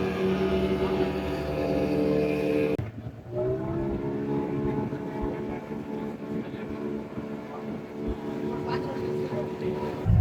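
A motorboat's engine drones steadily during a boat ride at the river and sea meeting point near Pondicherry, a loud hum that shifts pitch partway through, with water and wind noise around it.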